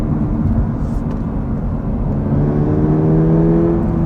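A 2024 Subaru BRZ tS engine pulls in third gear while going downhill, a loud, steady droning growl with rising pitch as revs climb, heard from inside the car with road and wind noise around it.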